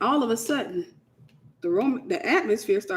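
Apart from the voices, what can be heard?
None of the usual background noises is heard.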